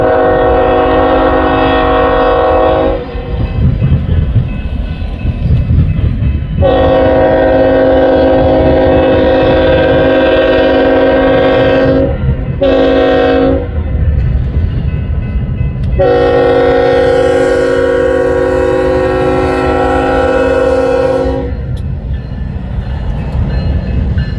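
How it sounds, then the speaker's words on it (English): A loaded BNSF freight train pulling corn rolls past heading north on Union Pacific's Blair–Fremont line, with a loud continuous rumble and repeated long horn blasts close by. "Here comes BNSF. Coming north."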